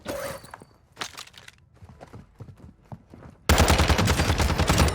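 Vaznev rifle fire in Warzone starts as a sudden dense, loud burst of automatic shots after scattered footsteps and light impacts, with no voices.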